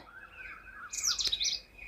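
A sparrow chirps at its nest holding eggs, a bright burst of short high tweets in the second half following a fainter, lower call, moderately close and with no voices.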